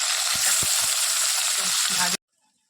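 Tilapia fish fry in hot oil in a pan with a loud, dense sizzle and a few low knocks, then the sound cuts off abruptly into near silence.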